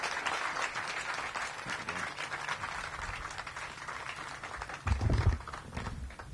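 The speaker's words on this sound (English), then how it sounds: "let's have a big round of applause for us getting to this point today" Steady crowd applause from an outdoor audience at a housing groundbreaking ceremony for the Skyland Town Center homes, holding at an even level throughout with a brief louder swell near the end.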